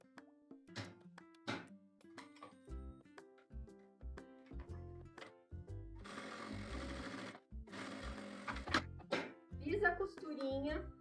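Domestic sewing machine stitching fabric for a simple zip pouch, with short bursts of fast mechanical running and a backstitch at the start and end, between quieter handling clicks and thumps.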